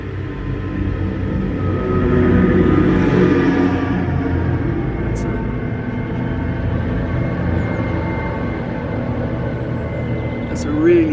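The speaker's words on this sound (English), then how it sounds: "The work truck." Work truck passing on a road, a broad rumbling drive-by that swells around two to four seconds and then fades, with a person talking over it.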